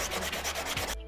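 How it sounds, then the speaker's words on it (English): A cracked plastic kayak hull is sanded by hand in fast, close, rhythmic rasping strokes that continue steadily for about a second before stopping abruptly. "I'm just gonna sand it down."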